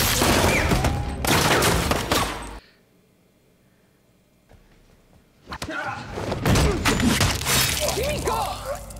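Grenade launcher fire in an episode of The Boys, with loud, dense bursts of blasts and shattering crashes, a sudden near-silent gap, then renewed heavy impacts and debris noise; voices are mixed in.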